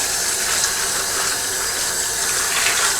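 Tap water runs in a steady, even stream over the media of an Eheim 2213 aquarium canister filter, a close, continuous splashing wash.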